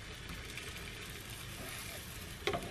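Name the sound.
melted butter sizzling in a frying pan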